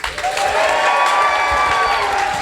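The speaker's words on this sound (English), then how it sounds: "So let's hoot and holler" Graduation crowd at a guide dog school ceremony cheering, hooting and applauding together in a sustained, loud burst of claps and shouts.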